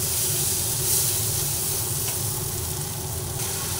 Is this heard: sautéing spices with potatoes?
yes